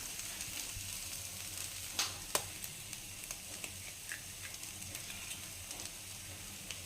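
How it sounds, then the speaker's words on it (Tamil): An egg is cracked into a hot pan of vazhaipoo podimas, a banana-flower stir-fry, with a couple of sharp cracking clicks followed by a continuous, fairly quiet sizzle and light scraping; no voices. "இங்கே வந்து நம்ம ஒரு முட்டையை உடச்சி ஊற்றிக்கலாம்"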